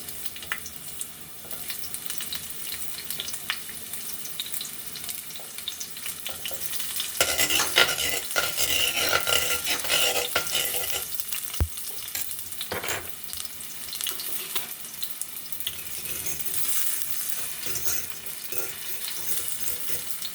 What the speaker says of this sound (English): Onions are cooking too fast